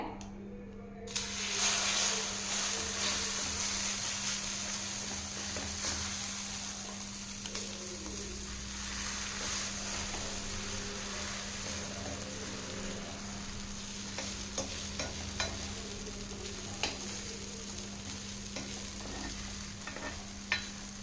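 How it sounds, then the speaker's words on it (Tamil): Beaten egg spread on a hot oiled tawa for an omelette fries with a steady, close hiss and sizzle, with a few small spatula clicks over a constant background hum. "அடுத்து நம்ம கலக்கி வச்சிருக்கிற முட்டையை வந்து செத்திக்கலாங்க"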